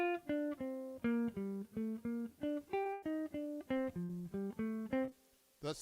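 A short jazz improvisation line using 1-2-3-5 patterns, quick evenly spaced notes stepping up and down over a rhythm changes chord progression, played cleanly with no talking.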